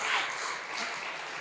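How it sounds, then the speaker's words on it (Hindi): A live audience at a Hindi comedy poetry show claps steadily, a dense, fairly quiet patter of hands lasting about a second and a half with no voices over it. "ताली बजानी है आप लोगों को"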